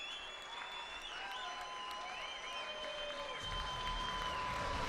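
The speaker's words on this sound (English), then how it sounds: "Crowd likes it, Paulie." Boxing arena crowd applauding and cheering after a fight between an Irish boxer and his opponent, a steady broad wash of clapping and noise from a distance that swells toward the end, with faint whistles.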